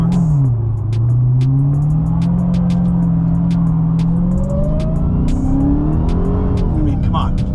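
A Dodge Charger Hellcat Widebody accelerates hard on an empty road with traction control fully on. The engine roars loudly and continuously, its pitch climbing and shifting through the gears, with some tire noise.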